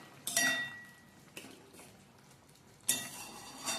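Sparse clinks of a spoon against a pan as a curry of red amaranth stems, potato and lentil dumplings is stirred with cumin powder, three short scrapes spread over a quiet kitchen background.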